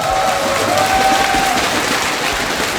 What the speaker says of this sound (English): Give a big round of applause for Gelati.